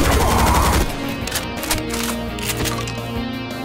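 Doom 2 played with the Project Brutality mod: a burst of rapid gunfire opens loud and dense for under a second, then sharp single shots and game effects follow over a steady, busy background.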